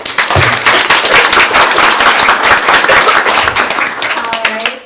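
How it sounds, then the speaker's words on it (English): A school board meeting audience claps loudly and close by for students, a dense, crisp patter of hands that fills about five seconds, then thins out as a voice starts up at the end. "can we get a round of applause for our stars of the show?"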